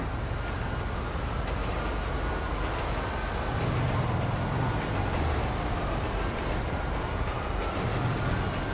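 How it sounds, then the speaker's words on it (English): A train rolls past in Grand Theft Auto V, a steady dense rumble of wheels and engine that holds loud and close for the whole stretch with no talk over it. "Now the train comes."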